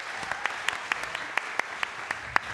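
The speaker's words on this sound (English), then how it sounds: "Give a huge round of applause." Brief burst of audience applause at a science comedy show, with sharp individual claps standing out over a dense, steady patter that holds for a couple of seconds.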